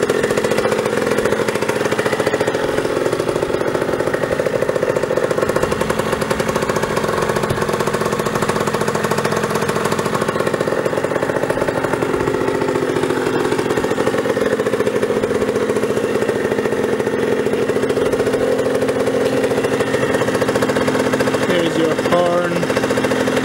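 The 50cc engine of a 2007 Rieju RS2 motorcycle runs and exhausts close by, a loud, steady, buzzing idle that holds unbroken from start to finish.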